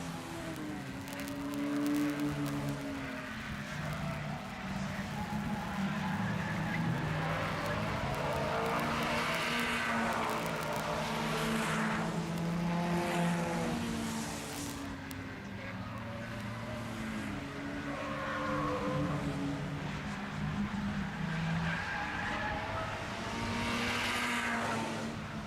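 Short track race cars at Grand Bend Speedway during a Labour Day Sunday event, engines roaring loudly and continuously as the field circles, with rising and falling pitch sweeps as cars pass.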